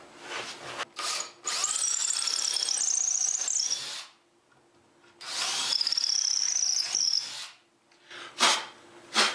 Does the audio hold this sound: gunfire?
no